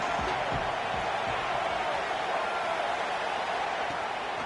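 Stadium crowd in the Madden 25 American football game, a continuous roaring murmur of spectators filling the background while a commentator talks over it.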